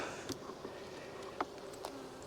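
Honeybees from a nuc hive during an inspection give off a faint, steady buzzing hum with a few brief louder ticks and passes, alone in a quiet setting.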